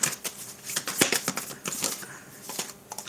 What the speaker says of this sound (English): I'm going to fix the camera so you all can see me shuffling cards